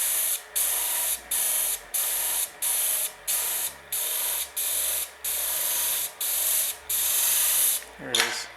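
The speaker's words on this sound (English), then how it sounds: "That metal makes a different sound when it hits the sandpaper." Sandpaper rubs against a spinning brass tube on a wood lathe, giving a steady loud hiss broken by short regular gaps as the paper lifts and touches again, with a brief rising whine at the end.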